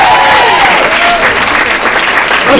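A comedy club audience applauds loudly as performers are announced, dense close clapping with a few cheering and whooping voices rising over the steady roar.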